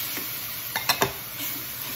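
Salsa being stirred into rice in a pan for mango chicken and rice: a steady sizzle under a few short scraping stirs bunched near the middle, close and moderately loud, with no talking.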